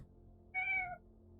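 A black cat lets out a single short, clear meow, close by, over quiet room noise.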